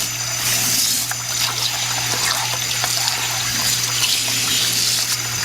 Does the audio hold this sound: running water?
yes